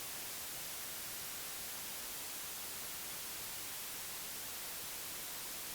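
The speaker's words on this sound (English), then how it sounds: "the white noise does not get affected by the cutoff" Steady hiss of white noise from a Befaco percussion module patched in VCV Rack software synthesizer, a constant, even, full-spectrum wash with no rhythm or variation, alone and moderately quiet.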